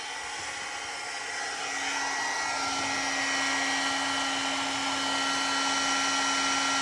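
A heat tool blows hot air to melt embossing powder in a craft session: a steady, loud whooshing roar like a hair dryer that holds unbroken for several seconds, with no talking over it.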